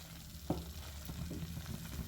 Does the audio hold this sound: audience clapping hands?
no